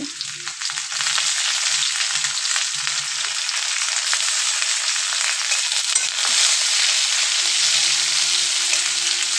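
Chopped tomato frying in a pan with onion already browned, a steady, loud, close sizzle and hiss that runs unbroken the whole time, with no voices.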